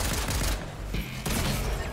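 Rapid pistol spray gunfire in a video game, heard as a dense, loud burst of quick shots with a brief lull in the middle before the firing resumes, close and dominant.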